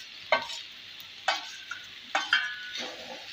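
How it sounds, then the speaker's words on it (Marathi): Potatoes with turmeric being stirred and fried in oil, a few distinct scraping stirs spaced about a second apart over a faint sizzle, near and fairly quiet. "तर आता आपण ह्यामध्ये बटाटे टाकून घेऊया।"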